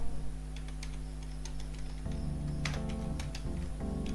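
Typing on a computer keyboard, a quick run of light, close key clicks in short bursts over a steady electrical hum, with no one talking.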